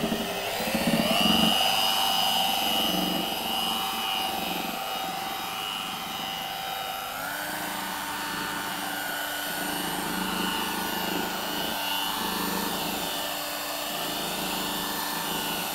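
A rotary polisher runs on a GRP panel at about 1100-1200 RPM, a continuous whining motor hum with shifting tones and a faint buffing rasp, steady throughout with no talk.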